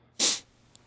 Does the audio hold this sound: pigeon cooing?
no